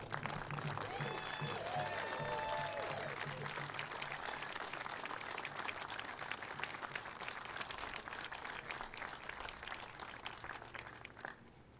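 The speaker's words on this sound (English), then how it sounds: "Please join me in giving a round of applause for Rob Gannon" Steady applause from a large crowd fills the whole stretch, dense and continuous, with a faint murmur of voices underneath that gradually eases toward the end.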